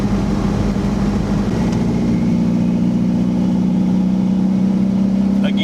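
A 1991 Toyota MR2 with a swapped turbo engine runs steadily at low revs, around 2,500 RPM and kept out of boost, while driving, giving a continuous close drone with a steady hum throughout.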